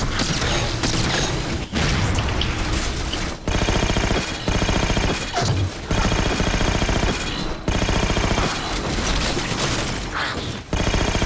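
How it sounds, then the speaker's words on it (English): Sustained automatic gunfire in the shooter game Halo 4, coming from behind: loud, dense bursts of rapid shots broken by brief pauses, continuing throughout. "you got something shooting at you from behind"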